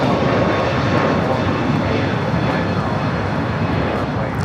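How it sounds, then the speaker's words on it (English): A one-year-old United Airbus A321neo jet airliner at LAX, a loud steady engine roar filling the whole stretch, with faint voices underneath. "This is United Flight 1498 going to Chicago O'Hare on a 1-year-old Airbus 321neo"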